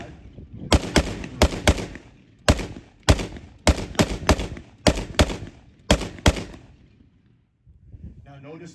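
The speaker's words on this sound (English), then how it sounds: "The BAR gunner, demonstrated here, with 2 assistant gunners, would lay a base of fire" An M1918 Browning Automatic Rifle fires a string of sharp, loud automatic bursts, some of two or three shots and some single cracks, each with a short echoing tail, before things fall quiet and a faint rustle follows.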